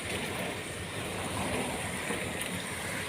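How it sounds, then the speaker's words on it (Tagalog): Steady, dense roar of heavy rain pouring down, a continuous wash of noise with no breaks and no voices. "Ang lakas po ng ulan"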